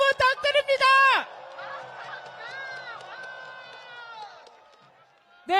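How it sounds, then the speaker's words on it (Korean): At a political rally, a loud voice on the public address gives way to a sustained roar of crowd cheering and shouting with whistle-like cries, which fades slightly before the amplified voice returns. "여러분, 박찬대 원내대표님께 다시 한번 뜨거운 함성과 박수 부탁드립니다."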